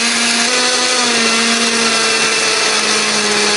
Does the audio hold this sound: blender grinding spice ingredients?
yes